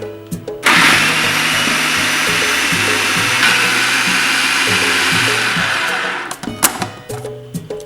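A food processor blending avocado crema with lime juice whirs loudly and steadily for about five and a half seconds, then winds down, followed by a few short bumps and knocks.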